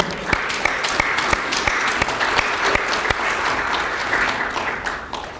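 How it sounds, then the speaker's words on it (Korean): Audience applause at a regional meeting, a full crowd clapping steadily with sharp individual claps standing out, holding strong before easing off near the end. "다시 한번 큰 박수 부탁드립니다"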